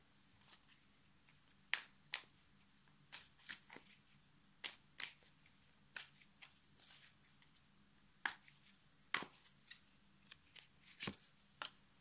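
Tarot cards are handled and laid down one by one, giving a run of sharp, close slaps and flicks at irregular intervals over a quiet room hum, with no talking.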